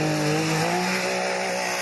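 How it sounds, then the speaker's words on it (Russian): Quad bikes and ATVs roar at the start of a rally race. Their engines hold a loud, sustained, droning note that shifts slightly in pitch across the short stretch. "На максимальной скорости мотор ревет, клубы пыли. Эти вездеходы громко рычат и рвутся в бой"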